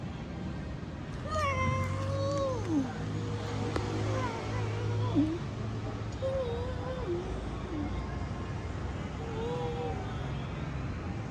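A cat meows repeatedly at a temple, Wat Phrommat in Lopburi, Thailand: several drawn-out, rising and falling cries close by over a steady low hum, with a voice talking quietly at times.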